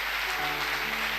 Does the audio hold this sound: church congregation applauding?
yes